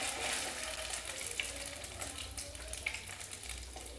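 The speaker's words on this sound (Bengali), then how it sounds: "পনিরটা আমি এইভাবেই হালকা করে ভেজে তুলে নেব।" Paneer cubes shallow-frying lightly in oil for chilli paneer give off a soft, steady sizzle with faint bubbling and the occasional small crackle, heard close and alone.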